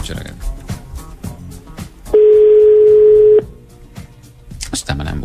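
Telephone line tone on a Hungarian radio morning show as a listener is called, a single steady tone lasting over a second, with studio talk before and after.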